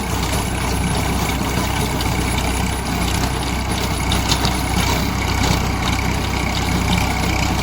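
A Massey Ferguson MF 241 tractor engine runs steadily at idle, a continuous low, rough mechanical drone with no speech.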